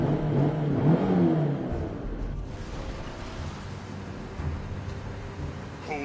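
Game car revving and accelerating in Mobile Legends: Bang Bang, a loud engine roar strongest in the first second and a half, then easing into a steadier hum that carries on to the end.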